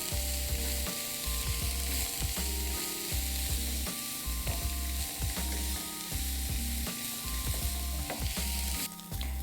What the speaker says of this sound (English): I'm going to cook it all together for about 3 or 4 minutes until everything's nice and golden and softened.